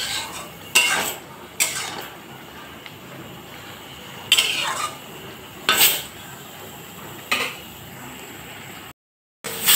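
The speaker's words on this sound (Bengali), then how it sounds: "মশলা বেগুন আলু সব কষিয়ে নিলাম।" A metal spatula scrapes and knocks against a pan in intermittent strokes over a faint background hiss, with a few seconds between each stir, as spiced eggplant and potatoes cook.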